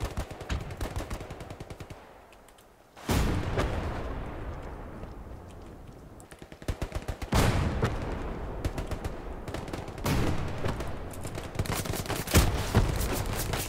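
Sustained machine gun fire in the World War II shooter Hell Let Loose, with loud rattling bursts and heavy booming volleys that surge and fade repeatedly over a dense battlefield din.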